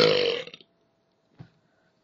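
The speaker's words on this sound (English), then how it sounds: "I'll do another burping" A single close, loud burp lasting about half a second, followed by near silence and one faint, brief sound.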